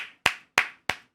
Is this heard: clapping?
yes